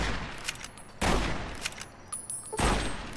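Gunfire in Fallout: New Vegas, three sharp shots about a second apart, each trailing into a ringing echo, with a faint background hum between them.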